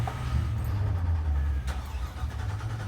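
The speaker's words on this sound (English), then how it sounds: "I'm just about ready to fire off my engines" Cobalt R33 aircraft engine cranking and catching, a loud low rumbling engine that settles into a steady idle, with a brief click midway and no talk.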